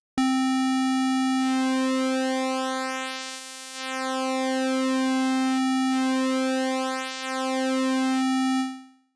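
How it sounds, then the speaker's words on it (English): A sustained buzzy square-wave tone from Ableton's Drift synth whose timbre sweeps and pulses under pulse width modulation, dipping briefly twice before cutting off. "we hear a pulse width modulation."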